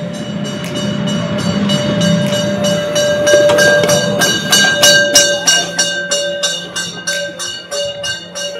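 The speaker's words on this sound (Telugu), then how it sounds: "ఇప్పుడు వస్తుంది చూడండి, ఇలా వచ్చి ఇప్పుడు ట్రైన్ ఇక్కడ కలుస్తుంది" A steam engine train in Germany approaches to couple with its carriages, loud and close: a low rumble gives way to rapid, regular metallic clanks and wheel clatter that slow and grow more distinct.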